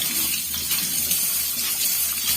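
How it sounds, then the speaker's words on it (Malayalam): Water gushes strongly and steadily from a tap, a constant close rushing splash with no voices. "ഇപ്പം നല്ല കോഴ്സായി വെള്ളത്തിനുണ്ടോ"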